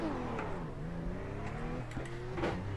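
A RUF C Spec race car in the iRacing sim drives past with a rising, then falling engine note and revving gear changes, moderately loud against a continuous background engine drone.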